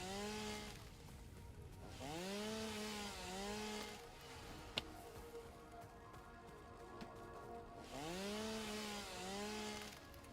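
Chainsaw in the video game Satisfactory revs in repeated rising and falling bursts about every two to three seconds while clearing flowers, with a steady engine drone between the bursts and a sharp click partway through.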